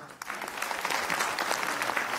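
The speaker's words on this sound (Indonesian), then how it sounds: "Tepuk tangan buat Caca." A small crowd claps steadily for a couple of seconds, a brisk, even patter of applause.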